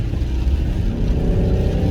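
A Land Rover Freelander 2 with a 2.2 litre diesel engine kicks down and accelerates, giving a loud, continuous engine roar heard close up from inside the car.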